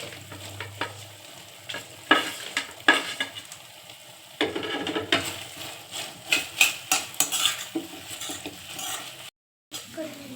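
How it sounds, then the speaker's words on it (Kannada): Fried mushrooms are stir-fried in a pan for mushroom manchurian, with repeated scraping stirs and clinks over a soft steady sizzle, fairly close. "ಈಗ ಎಣ್ಣೆಲಿ ಕರೆದಂಥ ಮಶ್ರೂಮ್ನ ಹಾಕ್ಕೊಳ್ತೀವಿ"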